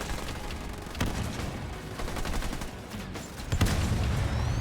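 Rapid gunfire and explosions pound in a Halo Wars 2 real-time strategy match as a base is destroyed, with dense bursts and heavier booms around the middle and end, no voices over it.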